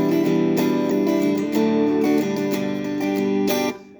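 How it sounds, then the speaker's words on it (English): Acoustic guitar strummed in a quick, steady 6/8 pattern, chords ringing out continuously for a few seconds before stopping, played alone and close. "So it's a nice, quick strumming pattern."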